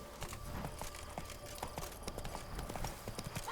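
Roach the horse galloping in The Witcher 3, quick rhythmic hoofbeats clattering over a steady background, moderately close with no talk.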